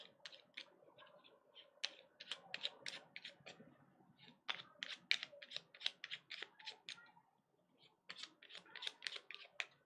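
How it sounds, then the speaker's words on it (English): Rival tokens from the Lost Ruins of Arnak board game being shuffled by hand: quiet, rapid clicking and clacking bursts in quick clusters with short pauses, close up and without speech. "And we just shuffle up the rivals tokens."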